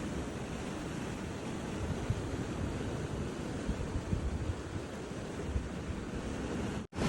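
Ocean waves washing onto a beach at night, a steady broadband rush of surf with light wind noise, continuous and fairly even, with no voices.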